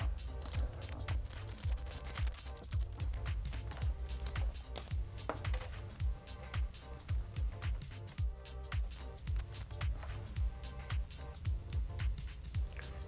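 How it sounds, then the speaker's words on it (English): Metal clicking and ratcheting from loosening an 8 mm locking nut behind the clutch reed switch on a 2013+ Kawasaki Ninja 300 lever perch, repeated close taps and clicks over steady low background noise. "now we will remove the locking nut from the perch"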